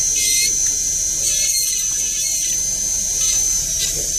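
Rotary tool grinding the outer surface of a dental stayplate, a steady high-pitched whine running continuously without pause, close and fairly loud, with faint low background noise beneath.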